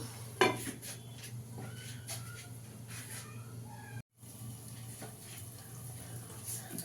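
A pot being handled and covered with a lid after a little water goes into a kofta curry being cooked, with metal clinks and a sharp clatter near the start over a steady low kitchen hum, no talk.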